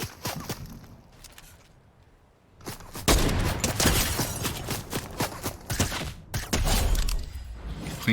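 Rapid submachine gun fire in Call of Duty Warzone: dense, close bursts of crackling shots come in two long volleys, split by a brief pause and preceded by a quieter stretch with scattered distant pops.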